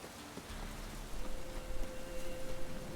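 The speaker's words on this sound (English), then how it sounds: "Looks like rain." Steady rain in The Witcher 3 video game hisses softly and continuously, a faint, even patter that stays at the same low level with no voices over it.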